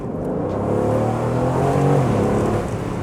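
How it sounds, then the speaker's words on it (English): An Aston Martin Vantage Roadster's front-mounted 4-litre twin-turbo V8 from Mercedes AMG revving loudly with the roof off, rising to a throaty peak near the middle before easing back, heard alone without speech. "it's a 4-litre twin-turbo V8 engine sourced from Mercedes AMG"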